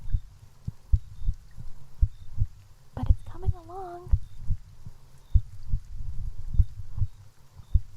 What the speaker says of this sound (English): Heartbeat is so fast.